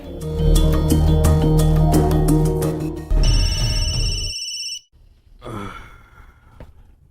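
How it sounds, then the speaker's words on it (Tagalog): A cellphone rings loudly with an incoming call, a repeating melodic ringtone that plays steadily for about four seconds, then cuts off abruptly and leaves faint room noise. "may nanawag sa mong cellphone."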